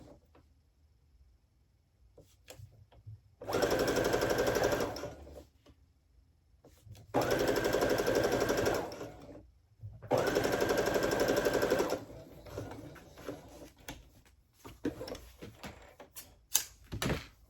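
A sewing machine stitches plaid fabric for men's pants in three loud, steady bursts of rapid mechanical whirring, each lasting about two seconds with short quiet gaps between, followed by softer clicks and handling noises.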